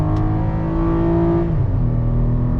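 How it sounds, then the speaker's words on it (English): A 2022 Chevrolet Colorado ZR2 pickup truck engine revs hard under full acceleration toward nearly 6,500 RPM, its loud whine climbing steadily in pitch, then briefly dipping at a gear change before rising again. "Man, hear that engine screaming."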